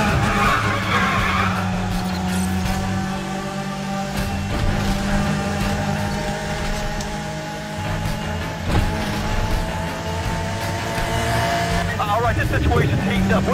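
Street race cars skid and squeal in Need for Speed The Run, with engines roaring and tires sliding continuously and loudly throughout, while radio chatter plays over the driving noise.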